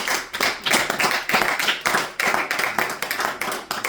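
A church congregation claps together in a steady, loud rhythm of sharp hand claps, roughly three per second, with no talking over it.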